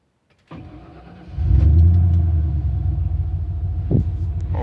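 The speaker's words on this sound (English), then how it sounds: "Listen to that V8." A Ford F-150 pickup's V8 cranks and catches, then settles into a deep, loud, close idle rumble with a brief rev near the end.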